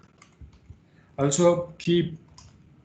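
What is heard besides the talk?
typing on a computer keyboard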